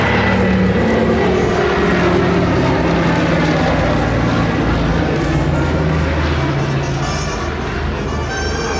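A PBY Catalina seaplane roars past at close range during a seaplane gathering at Biscarrosse, its loud droning propeller engines steady throughout with a broad rushing wash, no pauses.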